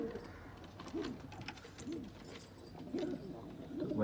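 A breeding pair of pigeons coos repeatedly in soft, low, rhythmic bursts, fairly quiet, with faint background murmurs between the calls.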